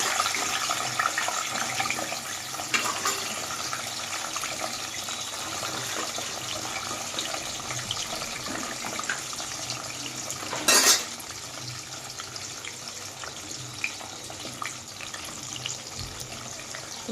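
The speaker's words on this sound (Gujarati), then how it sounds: "તો સરસ તળી લઈએ ડુંગળીને હવે." Sliced onions fry in hot oil in a pan, a steady close sizzle and crackle running the whole way with one brief sharp clank of utensil on pan, no voices.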